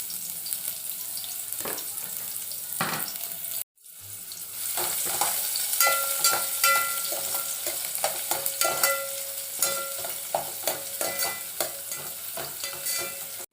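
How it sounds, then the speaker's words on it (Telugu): Chopped onions and green chillies drop into hot oil and break into a loud, steady sizzle after a brief pause, with a spoon stirring and scraping the pan close by. "నేను ఇప్పుడు ఇందులో కట్ చేసిన ఆనియన్స్, పచ్చిమిర్చి వేసుకుంటున్నాను"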